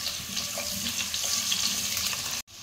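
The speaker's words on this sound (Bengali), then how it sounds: "তেলটা গরম হয়ে গেছে, আমি এবার কেটে রাখা আলুগুলো দিয়ে দেব, দিয়ে একটু ভেজে নেব" Cut potatoes fry in a few spoonfuls of hot oil with a continuous close sizzle and faint crackles, ending in a sudden short cut-off.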